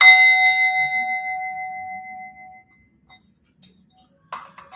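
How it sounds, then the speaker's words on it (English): A single clear meditation bell rings out and fades slowly into silence, followed by a faint soft tap near the end. "I'll open with 1 bell and end with 3 bells"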